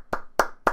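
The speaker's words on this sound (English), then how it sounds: "Slow clap." Three slow, evenly spaced hand claps, sharp and close, with short silent gaps between them.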